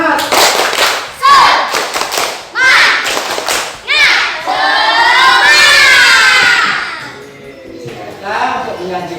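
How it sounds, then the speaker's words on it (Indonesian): A school class does a rhythmic spirit clap, children clapping together in quick patterned bursts with shouts and chanting voices, loud and close in a classroom. "Nah, untuk supaya kita semangat, kita kasih tepuk semangat dulu."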